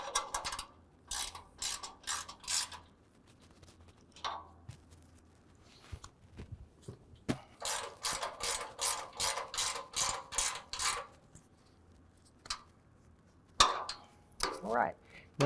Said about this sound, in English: Now we can go ahead and tighten these down with our ratcheting wrench